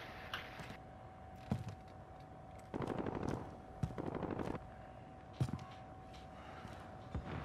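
Gunfire in the video game Warzone: several short bursts of automatic fire, some sustained and some single cracks, scattered across the clip at moderate loudness over a steady background tone.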